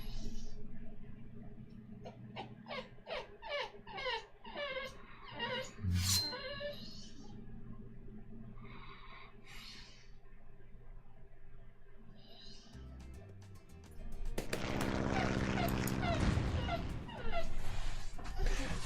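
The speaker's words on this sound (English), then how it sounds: "Yes, you're a beautiful doggy." A pet dog whimpers and yips in a run of short, high, uneven cries near the mic, and a voice speaks between them. A louder, denser burst of sound follows toward the end.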